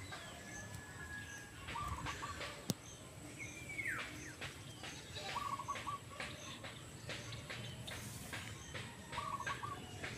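Several birds call outdoors on a farm in Ilocos Norte, Philippines, at moderate distance, short repeated chirps and a few clucking fowl sounds over a steady background hum of wind and ambience.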